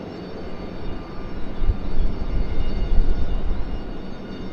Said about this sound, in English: Oh, it's a different C-130.